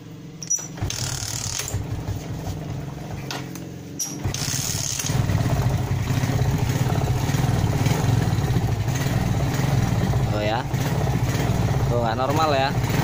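Motorcycle engine with a carburetor fault, restarted and running rough with an uneven sputtering note, steady and close, while a person talks over it throughout.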